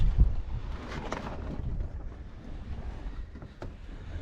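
Wind gusts and rumbles steadily across an outdoor livestock water tank on an off-grid farm, a low blustery roar with faint knocks and no talking.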